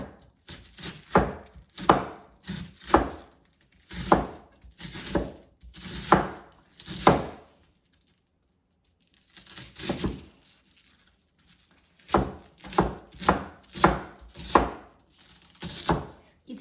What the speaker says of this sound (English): I'm saying the cabbage is hard to cut.